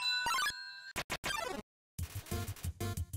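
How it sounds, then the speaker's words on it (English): Ringing chimes from the video game Undertale, quick bursts of bright tonal ringing and descending melodic blips, separated by short silences and followed by choppy electronic game sounds. "I really want to get away from this ringing."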